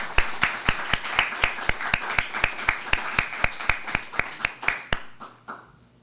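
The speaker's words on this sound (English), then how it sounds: "Please give them a round of applause." A small community-event audience gives a round of applause: a sparse, even series of distinct single claps, roughly a few per second, fairly close, thinning out and fading near the end.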